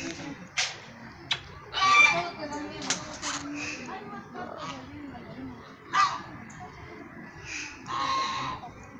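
A female peafowl walks up close, giving several short clucking, honking calls spread through the clip, with people talking softly nearby between them.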